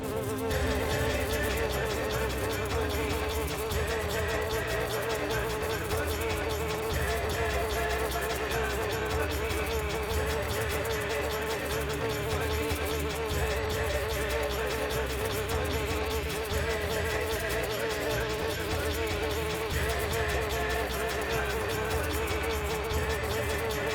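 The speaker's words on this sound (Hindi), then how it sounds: "मुझे विषैली मधुमक्खियों के आक्रमण से बचना होगा।" A swarm of venomous bees drones in a dense, continuous buzz that never lets up, a thick, close hum running steadily from start to finish.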